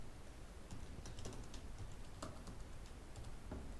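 Soft, rapid keystrokes on a computer keyboard as JavaScript code is typed, a faint irregular clatter over a steady room hum with no talking.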